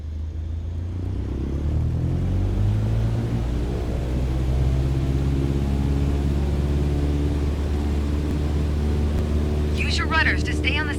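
A light aircraft in Microsoft Flight Simulator roars at full takeoff power, a steady loud engine drone with rising harmonic whine, and a voice speaks briefly near the end.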